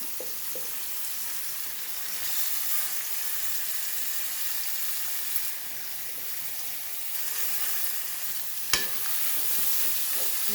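Grated cabbage fries in a pan with a steady, close sizzle and hiss, broken by occasional scrapes and taps of stirring; no one speaks.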